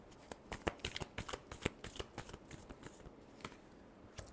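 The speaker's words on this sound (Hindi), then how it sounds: "Last shuffle." A deck of tarot cards is riffled and shuffled close by, a quick run of crisp flicking snaps that thins out toward the end, quiet and alone without talk.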